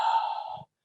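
One gentle, soft inhale taken during a morning breathing exercise, a smooth airy breath lasting just over half a second before falling silent.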